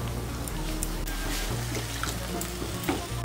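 Spices frying in a pan for an aloo soyabean curry as a little water is poured in: a steady close sizzle and bubbling with light stirring.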